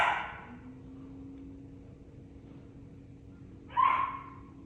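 A large dog gives two short barks several seconds apart, with a quiet pause in between.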